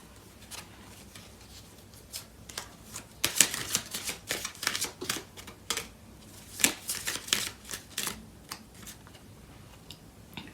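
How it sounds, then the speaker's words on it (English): Tarot cards are pulled from a deck during a love reading, giving a run of close, crisp flicks, slides and snaps of card stock with no talk, busiest in the middle and quieter toward the end. "So I'm going to pull out some cards from the other deck."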